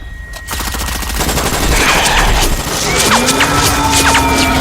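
Rapid bursts of automatic gunfire crackle through a Hindi-dubbed action film scene, sustained and loud with sharp repeated shots and whistling effects layered over a busy mix.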